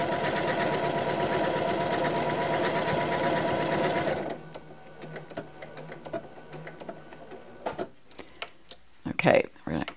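A sewing machine stitches a tea towel with a loud, steady mechanical whir for about four seconds, then stops. Faint clicks and handling noises follow in the quieter remainder.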